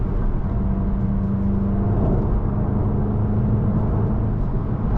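A Volkswagen Golf GTI with the EA888 Evo 4 engine accelerates in a steady, loud whirring drone, heard from inside the car, without any voices.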